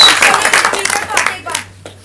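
Theatre audience applauding after a stage play, dense clapping at close range that fades out over about two seconds, with a voice briefly heard near the end.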